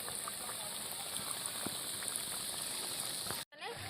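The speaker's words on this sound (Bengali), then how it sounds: "আমি কিন্তু ভালো করে লাল লাল করে ভেজে নেবো, আর যেন ভাজাটা কড়া মতো হয়।" Banana flower and small fish chops deep-frying in oil until crisp and red, a steady, close, even sizzling hiss that drops out briefly near the end.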